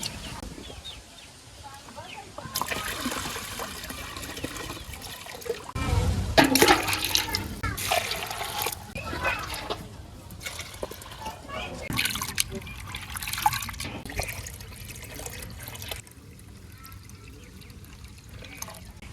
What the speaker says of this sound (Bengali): ডাইল এখন আমি ধুয়ে নেই